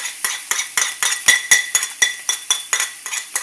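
Vegetables stir-fried in oil in a pan for chili shrimp, a spatula scraping and clinking against the metal in a steady rhythm of about a dozen sharp strokes, close and fairly loud with no voices.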